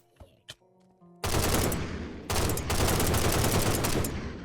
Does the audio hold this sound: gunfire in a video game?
yes